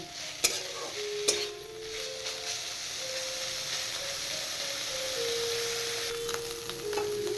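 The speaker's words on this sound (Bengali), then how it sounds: "এবার এগুলো আমি একটু ভেজে নেব" Prawns fry in oil with salt and turmeric in a steady, close sizzle. A couple of sharp utensil clacks sound near the start, and soft tonal music runs underneath.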